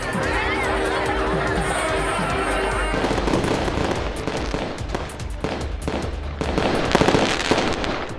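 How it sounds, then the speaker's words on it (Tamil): Fireworks display at a temple float festival in Tamil Nadu, with a dense run of sharp bangs and crackles growing busier toward the end, over a steady crowd murmur and background music. "அப்போது கண்கவரும் வான வேடிக்கையும் நிகழ்த்தப்பட்டது."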